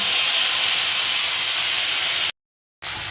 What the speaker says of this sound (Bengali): এই যে এইবার আমি মাথাগুলো ভেজে নিচ্ছি